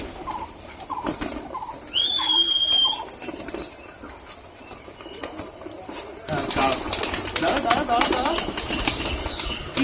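Pet pigeons being fed coo and shuffle close by, with bursts of wing flapping and scratchy movement, while a person talks over parts of the scene.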